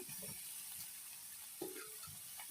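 Potatoes and tomatoes frying in hot oil with chicken for a desi chicken curry, a soft, steady sizzle with a few stirring scrapes, close and quiet.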